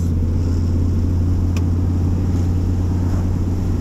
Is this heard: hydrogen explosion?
no